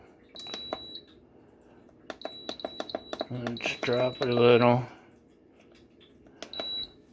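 Short electronic beeps from a cooker's control panel as the timer is set for a pork, vegetable and pasta soup, coming in separate clusters while a person talks nearby.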